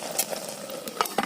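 Sweet potato leaves boiling in a pot over an outdoor fire, giving a steady bubbling sizzle with a few brief clinks and splashes.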